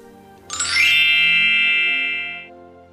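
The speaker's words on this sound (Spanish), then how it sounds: "cuando escuches el sonido de las campanas" A single bright bell chime rings out clearly as a page-turn signal in a Spanish audio story, striking sharply and then sustaining a shimmering tone that fades over about two seconds.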